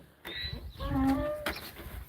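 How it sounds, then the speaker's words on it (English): Donkeys call from a farm fence, a faint, drawn-out braying cry that rises and holds for a moment against quiet outdoor background noise. "Oh, I hear the donkeys."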